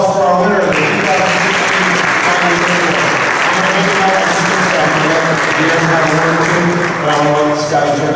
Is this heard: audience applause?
yes